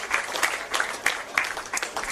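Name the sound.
spectators applauding injured player leaving field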